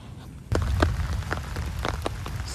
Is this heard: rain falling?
yes